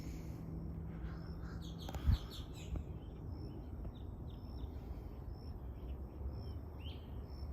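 Birds chirp in a Florida food forest of mostly mango trees, with a few faint, distant tweets over a steady outdoor hiss.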